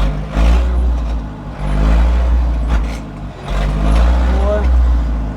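A 1997 Zetor 4340 59 hp 4x4 cab farm tractor with loader runs with a steady low diesel rumble that surges and eases in three pulses as it is shifted through the reverse gears, with someone talking over it.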